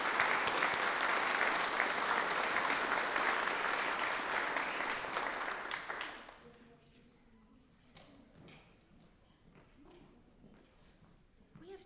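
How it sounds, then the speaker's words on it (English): A seminar audience claps in a dense, loud round of applause for about six seconds, then it drops off abruptly, leaving quieter room sounds and a few stray noises. "So I just have to give them a round of applause."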